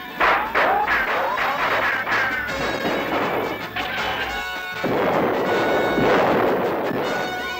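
Dense, continuous barrage of loud cracking bangs and crashes, like cannon and gunfire, with overlapping blasts throughout and a brief lull near the middle.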